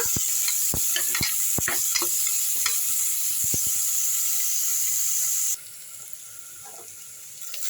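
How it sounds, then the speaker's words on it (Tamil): Sliced onions sautéing in hot oil with fennel seeds for an egg fry, a loud, steady sizzle with scraping stirs of the spoon, then the hiss abruptly drops lower near the end. "வெங்காயம் போட்டுக்குவோம் நல்லா வதக்கிடலாங்க இதை"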